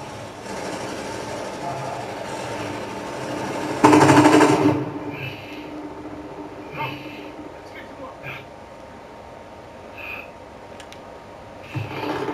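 Suppressing gunfire in Call of Duty Warzone, one loud burst of rapid automatic fire standing out partway through, then scattered quieter shots and game noise, with a player talking over most of it.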